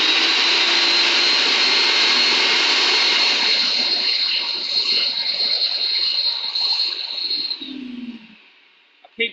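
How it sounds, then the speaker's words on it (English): A vacuum cleaner runs in a wood turning workshop beside a lathe, a loud steady whooshing whine that holds for most of the clip, then winds down and cuts off near the end. "turn the vacuum cleaner on, and I bet all you can hear is woo"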